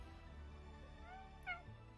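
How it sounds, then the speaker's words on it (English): A cat gives one short, soft meow at a low level, heard alone over a steady indoor background hum. "So let's let my cat in."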